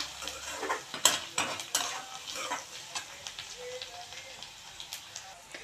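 Onion sautés in a pan for egg bhurji, with a soft sizzle under repeated scraping and clinking strokes of a spatula against the metal, close and fairly loud.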